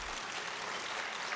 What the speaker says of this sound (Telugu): చప్పట్లు కొట్టచ్చు దీనికి